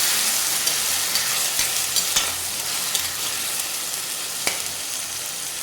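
Onion paste sizzles and fries in hot oil while being stirred, a steady dense crackle with occasional sharper scrapes of the spoon against the pan, close and continuous with no talking.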